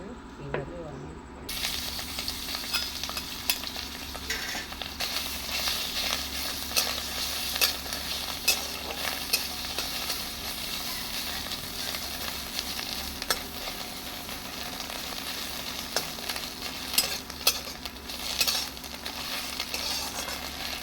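Steady crackling sizzle of ghee heating in a pan, a continuous bright hiss that starts after a brief quiet moment and carries on with small pops.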